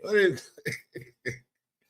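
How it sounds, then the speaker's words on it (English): A single voiced cough, then a few short throat-clearing bursts, close and loud, separated by brief silences. "before my cough interrupted the situation"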